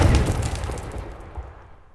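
A loud explosion in the horror game Security: The Horrible Nights booms at once and then rumbles away over about two seconds, with no talking.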